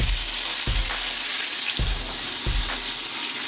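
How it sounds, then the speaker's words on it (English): A salmon fillet sears skin side down in hot olive oil, giving a loud, continuous hiss and sizzle in the pan, broken by a few low thumps as the fish or pan shifts. "our salmon is searing at the bottom"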